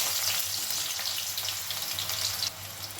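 Finely chopped onion fries with two dried red chillies until reddened, a dense steady hiss with faint stirring and a low hum, dropping slightly in level near the end.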